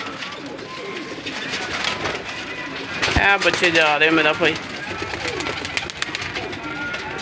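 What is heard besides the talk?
pigeons cooing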